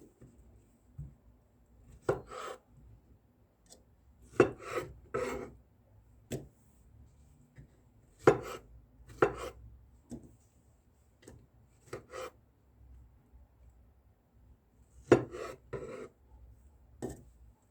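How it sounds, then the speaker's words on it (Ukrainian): A knife makes sharp chopping cuts on a board, quartering strawberries, irregular and close, with short pauses between strokes. "Беремо клубнічку, помиємо її, посушимо на рушнику бумажному і поріжемо, так на четверо"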